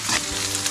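Garlic frying in a pan while being stirred, a brief close burst of hissing sizzle with a soft scrape of the utensil.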